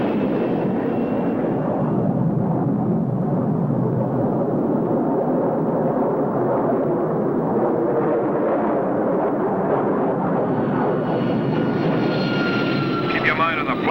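A 1951 propeller training airplane drones steadily in flight, a continuous engine roar filling the whole stretch under intermittent talk.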